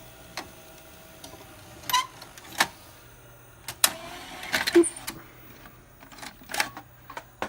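A Sony U-matic VO-5800 video tape player ejects a cassette with a series of close mechanical clicks, clunks and whirring motor movements spread unevenly over several seconds in a quiet room.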